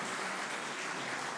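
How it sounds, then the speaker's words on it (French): Applause at a business awards ceremony, a brief dense burst of clapping from an audience, steady and fairly faint. "Est-ce qu'on peut applaudir Lise Jacquard, la cheville ouvrière du moment?"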